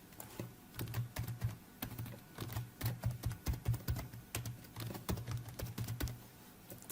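Fingers tap quickly on a computer keyboard, entering text into an Excel spreadsheet, a close, steady patter of key clicks in uneven bursts with no voices.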